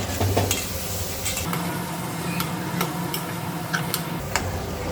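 Dried shrimp and drumstick pieces frying in oil for an Andhra-style curry, a steady close sizzle with scattered light ticks and stirring scrapes throughout, no voices.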